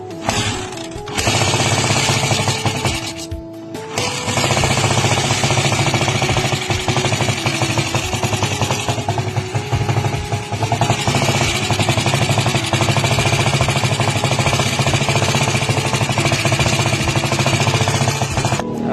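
A loud, harsh engine rattle from a worn timing gear clatters continuously, dipping briefly once early on before resuming its rapid, metallic knocking.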